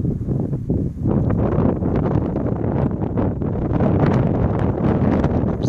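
Strong wind gusting at the Fairfield wildfire near Lander, Wyoming, a loud, continuous roar and buffeting against the microphone.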